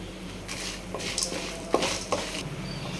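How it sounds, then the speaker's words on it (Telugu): Toor dal and dried red chillies fry in a pan, with soft sizzling under scraping spoon strokes and a few sharp clinks against the pan. "ఇందులోనే మనము ఎండుమిర్చి కూడా వేయించుకోవాలి"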